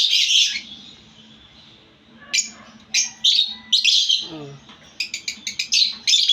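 Birds nearby give loud squawks and rapid high chirps in bursts, with a faint hum underneath.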